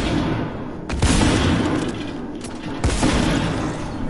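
SMG gunfire in the Fortnite video game, a few bursts of rapid shots against busy game noise, fairly loud and close.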